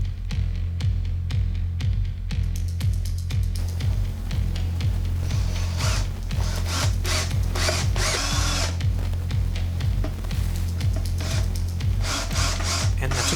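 A power drill drives screws through a metal neck plate into a guitar neck, whirring steadily in close, loud bursts with a ratcheting clatter as each screw seats.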